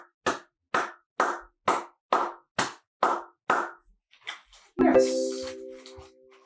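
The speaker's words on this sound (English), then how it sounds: "Sit for 5 seconds while you clap your hands." Hands clap eight times in a slow, even rhythm, each clap close and sharp, during a dog relaxation exercise; a few softer sounds follow, then a short voiced utterance.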